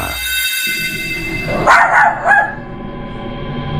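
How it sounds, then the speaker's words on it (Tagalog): A Chihuahua barks in a couple of short, high yaps close by, over a steady background hum. "Chihuahua."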